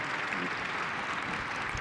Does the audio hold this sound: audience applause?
yes